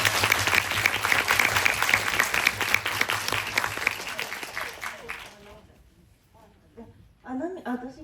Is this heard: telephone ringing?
no